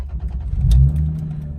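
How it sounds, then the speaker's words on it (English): A Toyota 2JZ engine with a modified throttle setup is slow to start, then catches and settles into a low, steady idle. The engine sounds close and fairly loud. "car starts up. Took a little while to start."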